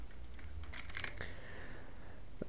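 Quick bursts of fingers typing on a computer keyboard, light clicking keystrokes close by in a quiet room, with no one talking.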